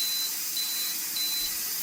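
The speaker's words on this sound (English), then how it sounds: "Beep, that means I'm supposed to close the vent off." A pressure canner that has finished venting lets out thin, faint electronic beeps over a steady hiss of escaping steam.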